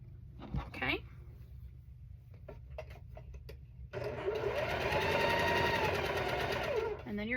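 A sewing machine runs steadily for several seconds, stitching two rows of a cat-themed quilt together. Light handling noises come first, then a loud, even whir. It is close and stands alone, with no talk over it.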